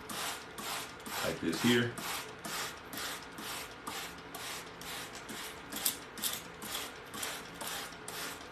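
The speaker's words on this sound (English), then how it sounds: "next you take your spray bottle, get your seeds well moistened" A spray bottle mists microgreen seeds and purple radish seeds in a growing tray with a steady run of quick, regular spritzes close by, while a voice briefly speaks over the first couple of seconds.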